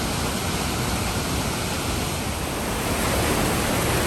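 A steady, full roar of rushing water from two waterfalls coming together fills the air, constant and broadband with no pauses, pouring continuously nearby.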